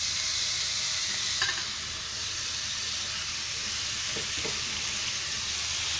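Marinated lemon garlic chicken cooks in plenty of oil in a hot pan on low heat, giving a steady, even sizzle with a few faint clinks, continuous and fairly close.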